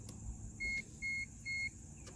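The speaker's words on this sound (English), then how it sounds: "This thing will start going real loud beeping when it's done." Three evenly spaced electronic beeps, each about a fifth of a second long, sound clearly over a low background hum.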